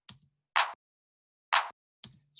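A single tech house clap sample on beats two and four, two bright isolated hits about a second apart, each short and snappy, with faint soft thumps between them.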